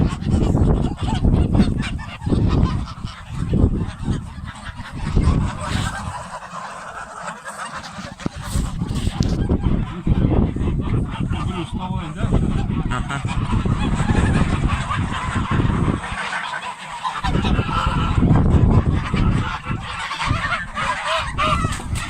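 A flock of geese raised for fattening honk continuously and loudly at close range, a dense overlapping clamor of harsh calls with brief dips, sustained for over twenty seconds without speech.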